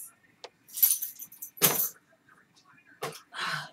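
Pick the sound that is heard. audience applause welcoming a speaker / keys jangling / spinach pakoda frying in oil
keys jangling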